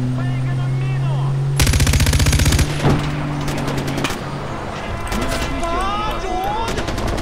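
Gunfire in the video game Far Cry 4, a loud sustained rapid automatic burst followed by scattered shots and further bursts over a steady game soundscape.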